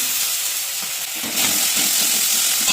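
A ground paste of cumin, cloves, black pepper, cinnamon and coriander hits a pan of fried ginger, and the continuous close sizzle swells louder and brighter about halfway through, with no talking.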